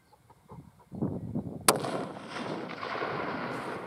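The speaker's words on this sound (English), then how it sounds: "It's an easy rifle to shoot, Nathan. It's a lovely rifle to shoot, isn't it?" A single sharp rifle gunshot cracks out loud and close at an outdoor range, its blast trailing into a long rumbling echo, following some faint low shuffling beforehand.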